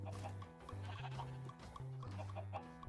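Chickens in the Minecraft video game cluck in short, repeated bursts, close and fairly quiet, over steady background game music with no talking.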